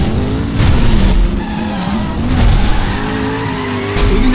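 Car drifting in the Driver San Francisco video game, with a loud sustained tire squeal over a steady engine roar, rising in bursts as the car slides, close and without voices.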